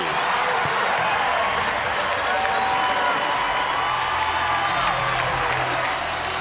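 A Baylor football crowd in a stadium cheers and whoops in a sustained, dense roar, and a commentator's voice comes through over the noise.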